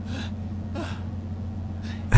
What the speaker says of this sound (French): Oh, comme il s'essouffle vite.